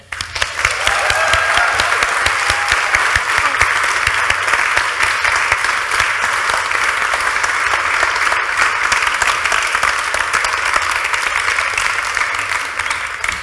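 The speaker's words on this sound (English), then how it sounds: "if you could put your hands together for a warm round of applause for Nikki Small." Sustained audience applause at a health and processed-food discussion event, loud and steady from start to finish with no talk over it.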